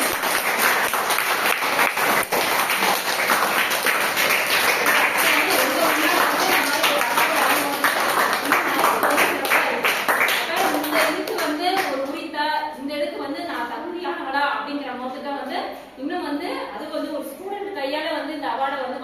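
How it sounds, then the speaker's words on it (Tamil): Clapping from an audience as students present an award to a teacher, a dense round of applause that thins out toward the end while voices talk over it. "அது வந்து ஒரு பெரிய கைத்தட்டல்"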